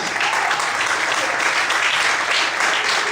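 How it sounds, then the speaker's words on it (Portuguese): A church congregation claps continuously, a dense, even wash of applause filling the space without letting up. "Você pode aplaudir o Senhor, aleluia."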